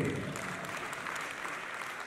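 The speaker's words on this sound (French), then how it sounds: "Samantha, la slameuse, est-ce qu'on peut l'applaudir s'il vous plaît?" Audience applause for Samantha, a slam poet, at a film festival awards ceremony in a grand theatre in Dakar: steady, fairly faint clapping from many hands filling the hall, with no voices over it.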